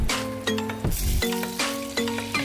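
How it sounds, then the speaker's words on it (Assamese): Potatoes frying in leftover oil in a pan, close crackling sizzle broken by repeated metallic clinks and scrapes of stirring, no speech. "আৰু ৰৈ যোৱা তেলখিনিত মই আলুখিনিও ভাজি ল'ম।"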